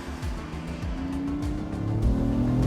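A high-performance sports car engine pops and cracks on downshifts during hard track driving, with quick rising and falling revs and sharp bursts close up, loud and without talking.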